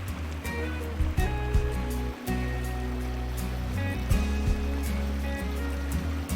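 Stream where villagers wash laundry by hand, heard as a steady rushing, burbling flow of water with occasional splashes and knocks over a low rumble, continuous and close, no talking.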